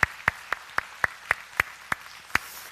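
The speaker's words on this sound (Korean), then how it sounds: "우리 하나님께 영광의 박수 올리겠습니다" Slow, separate handclaps in a church service after a prayer, about ten sharp claps at a steady, unhurried rhythm, fairly faint and with no talk over them.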